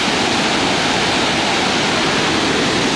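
Ocean waves surge and crash against rocks in a Hawaiian bay, a loud, continuous roaring wash of broadband water noise with no voices.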